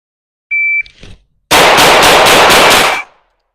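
Stock Glock 19 pistol fired in a rapid string of six close, loud shots from a low-ready start, preceded by a short electronic start beep.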